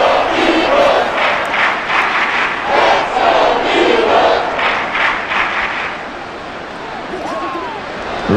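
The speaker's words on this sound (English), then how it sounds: "This crowd doing all they can." Stadium crowd roaring and cheering during a simulated New York Giants versus Philadelphia Eagles game in Madden NFL 24, a loud sustained swell that dips slightly near the end, with play-by-play commentary talking over it.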